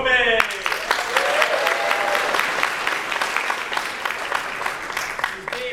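An audience at a convention costume and lightsaber show applauds for a performer, dense sustained clapping with some cheering, a voice briefly audible at the start.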